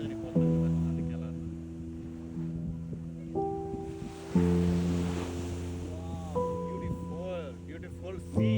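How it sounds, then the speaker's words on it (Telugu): Sea waves break on a shore, a broad wash of surf and wind that swells and recedes in the background while a person talks over it. "చూసినా కదా అలల్ని మన పైకి ఎలా నడుతుందో సముద్రం చూస్తున్నాం కదా"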